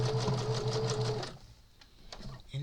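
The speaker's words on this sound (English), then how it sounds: "stitch it down the middle just to quilt it a little bit" Sewing machine stitching down the middle of a quilted clutch, a close whirring motor with rapid needle chatter that runs for over a second, stops, then starts again briefly at the end.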